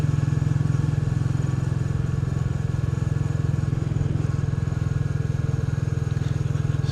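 Royal Enfield Bullet 350 motorcycle engine on a ride along country roads, a steady low thumping beat with a fast even pulse, loud and constant from start to end.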